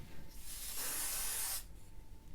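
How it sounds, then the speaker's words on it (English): A spray bottle lets out one sustained hissing burst of mist onto hair lasting under a second, close and fairly loud, then stops. "I'm trying to make sure I'm not spraying onto"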